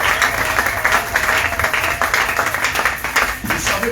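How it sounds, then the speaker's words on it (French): A church congregation claps and cheers for about four seconds, with dense, steady applause filling the space and a few faint voices mixed into the crowd. "acclamez très fort pour le Seigneur Jésus"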